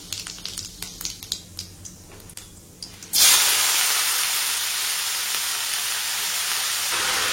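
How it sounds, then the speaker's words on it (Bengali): Whole cumin seeds crackle with scattered ticks in hot oil, then potatoes drop in and a loud, broad frying hiss bursts up and sizzles on steadily. "এখন আপাতত গোটা জিরে দিয়ে ভাজবো আলু ভাজাটা।"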